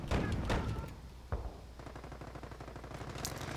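A machine gun nest firing in Company of Heroes, rapid rattling bursts with heavy booming impacts early on, then a sustained fast stream of gunfire at moderate distance.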